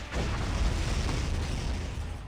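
A cannon blast in the Epic Seven video game: a loud, sustained booming explosion with heavy low rumble that holds steady for about two seconds.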